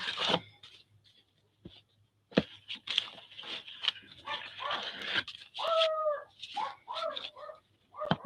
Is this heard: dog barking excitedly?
yes